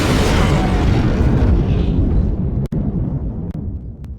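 A missile striking the Kestrel ship during an Ace Combat air battle, a loud sustained roaring blast with broad rumbling noise that fades slowly, later broken by a few sharp clicks.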